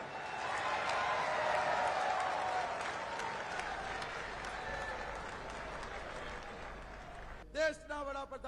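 A large crowd at a teachers' convention in Gujarat applauds in a sustained wash of clapping for Prime Minister Modi, fading gradually before a voice cuts in at the end.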